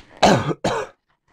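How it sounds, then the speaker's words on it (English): Two sharp, loud coughs close to the microphone, a longer one followed by a shorter one, then silence. "Sorry about that, I coughed so I caught the mic"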